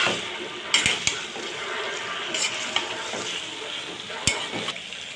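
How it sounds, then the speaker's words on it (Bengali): A pan sizzles steadily as beef curry fries, with scraping stirs and a few sharp clinks of a utensil against the metal. "তরকারিটা একেবারে সুন্দর ভাজা ভাজা করে কষানো হয়ে গেছে"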